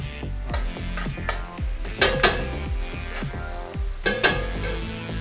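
Sausage, chopped garlic and seasoning sizzle in a roasting pan for sausage and peppers, with repeated metal utensil scrapes and clanks against the pan over the steady frying, close and fairly loud.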